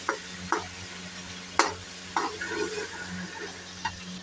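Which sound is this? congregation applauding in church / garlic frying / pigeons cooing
garlic frying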